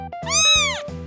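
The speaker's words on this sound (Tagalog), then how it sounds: "Meow, meow, meow, meow." A single close cat meow, drawn out and rising then falling over about a second, clear and loud with nothing else around it.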